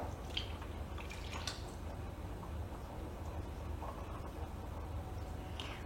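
Milk is poured into boxed cake mix as a quiet, continuous liquid trickle with faint splashy drips, heard close and low in level with no talk.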